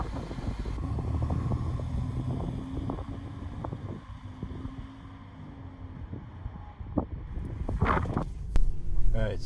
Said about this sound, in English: test driving, 2003 Chevy Monte Carlo SS, Jeff Gordon edition